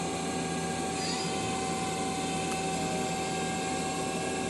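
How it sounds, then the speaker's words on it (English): A 2006 Mazak Quick Turn Nexus 200MS CNC lathe with its main spindle turning at speed gives a steady, even machine hum and high whine that hold unchanged throughout, with no voices. "The main spindle is running at 1500."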